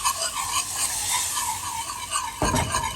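Cold milk is stirred into a blonde roux in a pan, giving a continuous close scraping and gentle sizzle that ends in a brief louder clatter near the end.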